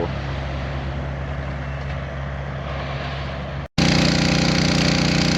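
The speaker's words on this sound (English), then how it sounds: "Got the pump set up and we're pumping." Water pump on a muddy cleanup site drawing out standing water, a loud, steady mechanical engine drone that cuts out briefly and resumes harsher and louder.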